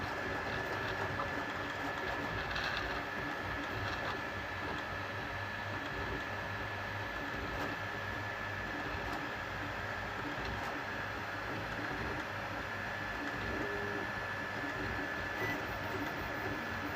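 A Bambu Lab A1 Mini 3D printer runs a torture-test print, giving a steady mechanical whir and rattle with stepper-motor whine that stays even and continuous for the whole stretch, with no talking.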